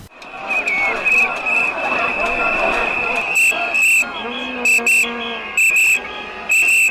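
Protesters outside the French Senate blow shrill whistles in a loud, sustained chorus, with sharp bursts repeating toward the end over a noisy crowd and voices.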